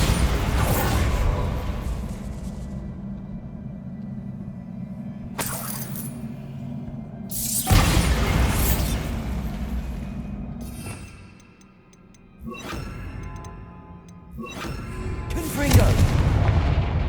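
Spell blasts from a Bombarda charm in Hogwarts Legacy, fired during a troll fight: several sharp, loud booming bursts with crackling debris tails, spaced a couple of seconds apart over steady game background rumble.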